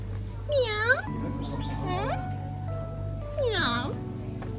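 A cat meows loudly two or three times, drawn-out wavering cries, while a low hum runs underneath at an outdoor campsite on Cheung Chau.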